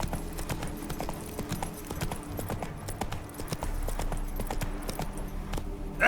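Hooves of Roach, the horse in The Witcher 3, clip-clopping in a quick, regular rhythm, close and fairly loud over a low ambient rumble, with no talking.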